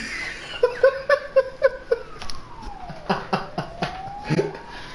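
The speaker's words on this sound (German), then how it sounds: "Sirene und Lautsprecher aktivieren" Police siren in the video game This is the Police, a near electronic wail with repeated rising and falling tones and short pulsing bursts, fairly loud and alone.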